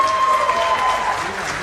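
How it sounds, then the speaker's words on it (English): A short burst of crowd applause at a Mahindra electric race car event in Hitech City, Hyderabad, steady and fairly loud, with a faint tone and some voices underneath. "Can we have a round of applause for them?"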